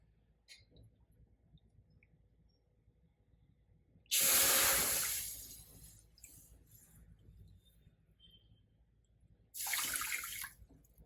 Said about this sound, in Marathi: हा रवा 2 वाट्या असल्यामुळे आपल्याला 4 वाट्या पाणी घ्यायचं आहे